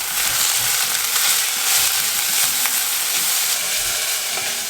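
Curry leaves and cumin seeds with onions sizzle loudly in hot olive oil for a moong dal tadka, a dense, steady crackle close up with occasional soft stirring scrapes and no voices.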